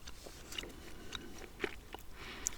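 Wrigley's Extra White gum is chewed close up and quietly, with soft wet smacks and small clicks in an irregular rhythm.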